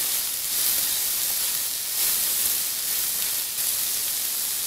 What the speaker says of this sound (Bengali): এবার এগুলো আবার ভালো করে মিশিয়ে নিয়ে আবার খানিক্ষণ একটু ফ্রাই করে নেব